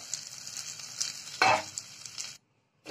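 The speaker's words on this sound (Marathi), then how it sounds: "याच्यात स्मॅश केलेले आलू ॲड करूया. व्यवस्थित मिक्स करून घेऊया." Smashed potatoes with turmeric being stirred in a hot pan, a soft sizzle under scraping strokes of a spoon, one louder scrape midway, then a brief silence.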